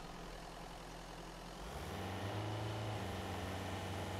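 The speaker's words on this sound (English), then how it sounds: "Oh, engine." A heavy vehicle engine in MIST Survival starts up and settles into a loud, steady low rumble and drone that continues to the end.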